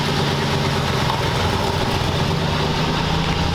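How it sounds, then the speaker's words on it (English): A truck engine idles steadily at close range, a continuous low mellow rumble with slight vibration and no break over the few seconds. "Gotta turn the idle down, mess with the idle screw a little bit, but the thing's nice and mellow."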